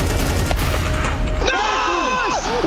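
Gunfire in a professional Counter-Strike match at ESL Pro League sounds as loud, rapid bursts of rifle shots and impacts with game effects, layered under excited commentator voices.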